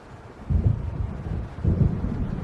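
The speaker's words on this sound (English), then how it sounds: "It seems there's a storm coming" Low rumbling thunder of an approaching storm in the Alan Wake video game, two muffled booming rolls over a soft wind-like bed, moderately faint and distant.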